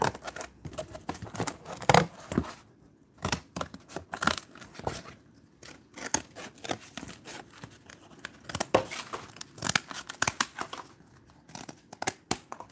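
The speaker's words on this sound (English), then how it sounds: "I'm going to have to cut this down to size because it has to go inside of it" Scissors snip and cut through crinkly material, likely the liner for a faux plant repotting, in repeated close, irregular crunches with rustling between cuts.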